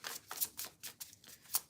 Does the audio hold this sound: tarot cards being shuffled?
yes